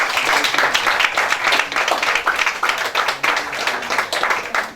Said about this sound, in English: a round of applause for all of you guys